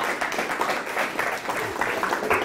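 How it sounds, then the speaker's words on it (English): An audience at a live performance claps steadily, a dense, even patter of many hands close by with no voices over it. "You can clap if you like"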